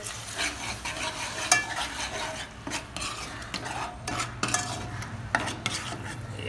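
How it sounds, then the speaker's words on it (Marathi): Chicken coated in yogurt and masala is stirred in a pan, a spoon scraping and clinking against the metal in uneven strokes over a low, steady sizzle. The sound is close and moderately loud, with no voices. "दोन तीन चमचे दही टाकलेले आहे असं चांगलं मिक्स करून घ्यायचं दह्याला बी याच्या मसाल्या बरोबर"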